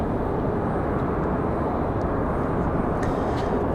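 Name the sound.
airliner taking off from Raleigh-Durham airport to Fort Lauderdale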